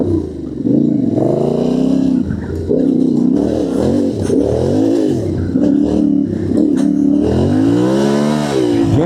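A motorcycle engine revs hard while riding deep in a forest on a training run, its pitch rising and falling repeatedly. The throttle is blipped over rough ground, loud and close throughout.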